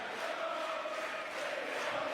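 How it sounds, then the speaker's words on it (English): A table tennis crowd at a world championship final sings together during an injury break, a steady massed chant filling the hall with a sustained tone. "Crowd loving this little break, Yeah. having a little sing-song."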